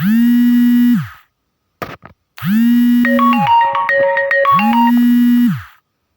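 A phone rings with an incoming call, loud and close: repeated bursts of electronic tone with a melodic ringtone jingle, cut by a short pause before ringing again.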